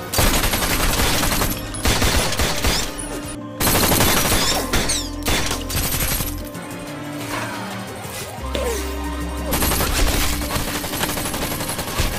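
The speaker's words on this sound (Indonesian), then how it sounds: "polisi Sanchez yang kebetulan berada di sana langsung beradu tembak dengan Luke" Heavy gunfire exchange from the film Lucky Day, loud bursts of rapid automatic fire and single shots with crashes, coming in several long volleys separated by brief pauses.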